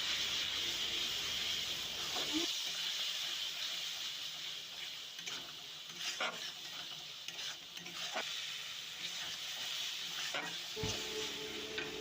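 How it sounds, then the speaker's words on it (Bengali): Spice paste with a little water frying in a pan for a Bengali fish-bone curry, sizzling and hissing steadily while a spatula scrapes and stirs it in irregular strokes. "এর মধ্যে অল্প জল দেব, দিয়ে ভালো করে মশলাটা নাড়াচাড়া করে ভেজে নেব।"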